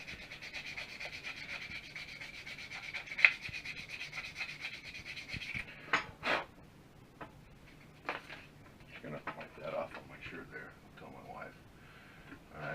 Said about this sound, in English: I've taken our bore grub and just some 320 grit sandpaper, and I've very carefully sanded this end piece